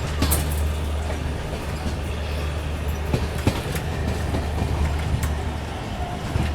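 Train pulling into Madar Junction railway station in Ajmer at night on a Jaipur–Mumbai special, with a steady low rumble and broadband rolling noise, occasional faint clicks and knocks throughout, no voices.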